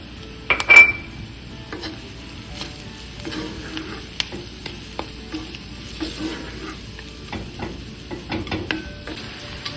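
Grated coconut fries in a pan for erissery, a soft steady sizzle broken by the sharp scrape and clink of a spoon stirring, loudest near the start, then scattered stirring taps.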